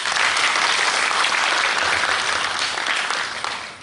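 Audience at a business innovation forum opening ceremony breaks into loud, dense applause, many hands clapping steadily and close, tapering slightly at the end.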